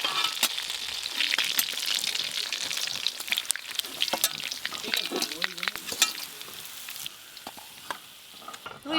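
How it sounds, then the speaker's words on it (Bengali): Pieces of rohu fish fry in hot oil, producing a loud, close, continuous sizzle and crackle with spatter pops, fading somewhat toward the end. "এই মাছগুলো সব ভাজা হয়ে গেল।"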